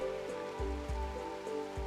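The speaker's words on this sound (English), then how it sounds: "now it's raining on my stuff" Rain falls steadily in the video game RimWorld, a constant close patter on surfaces with faint low thuds, heard alone without speech.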